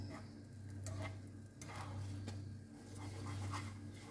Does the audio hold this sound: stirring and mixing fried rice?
yes